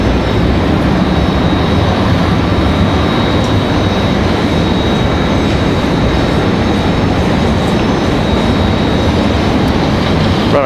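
A Boeing 757 airliner approaching to land at Raleigh-Durham airport produces a loud, sustained jet roar that stays steady and unbroken throughout.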